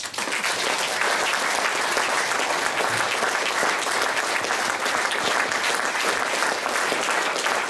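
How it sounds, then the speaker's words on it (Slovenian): A large audience applauds steadily after a folk singers' group performance, a thick continuous roar of many hands clapping that holds at even loudness throughout. "In en velik, velik aplavz."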